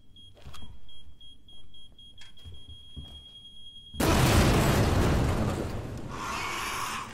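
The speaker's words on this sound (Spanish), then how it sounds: "La puta explosión ha llamado la atención de algo" A detonator explosion in the video game Resident Evil 2 Remake lands as a sudden loud, broad roar that cuts off a quieter stretch with faint beeping tones, then rumbles on and tapers slightly.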